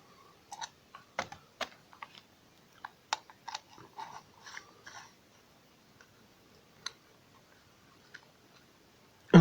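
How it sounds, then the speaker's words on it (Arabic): Phillips screws come out of a Benelli 150 motorcycle carburetor with a scatter of faint close ticks and clicks from the screwdriver and metal parts, irregular and sparse, ending in one sharper knock. "في مسمارين صليبة بيتفك منهم بالطريقة دي"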